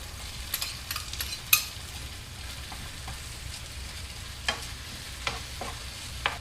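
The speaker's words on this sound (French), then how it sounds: "Je vais faire cuire les tomates sur un feu toujours doux pendant 2-3 minutes" Tomatoes, capers and tuna cooking over low heat in a pan, giving a soft, steady sizzle with occasional clicks and scrapes of a utensil stirring, close and fairly quiet with no talking.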